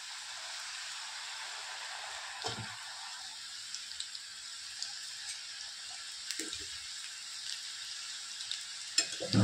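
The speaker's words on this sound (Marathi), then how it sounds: "आता आपण तेलात सोडून घेत आहोत। तेल गरम झालेलं आहे।" Maida champakali pastries frying in hot oil give a steady, close sizzle with soft bubbling throughout, broken by a few brief clatters of stirring.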